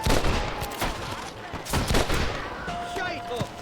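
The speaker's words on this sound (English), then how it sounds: "They're shooting down on us!" Gunfire in the Red Dead Redemption video game crackles in rapid volleys of sharp shots and echoing booms, with shouting voices mixed in among the exchange.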